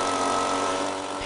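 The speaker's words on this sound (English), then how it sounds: "Witnesses say they revved up a leaf blower like this one," A leaf blower roars with a dense, loud, steady blast of noise over a short stretch, with no voices.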